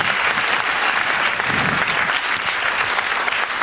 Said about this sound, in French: Vous pouvez applaudir Théodore